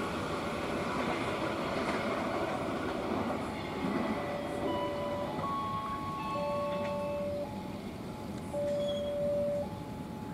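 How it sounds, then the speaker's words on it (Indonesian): Airport rail train heading west toward Soekarno-Hatta Airport, passing a railway level crossing with a steady close rumble of wheels and cars, while faint tones sound at intervals and no one speaks. "Kereta terus melaju ke arah barat ke Bandara Soekarno-Hatta."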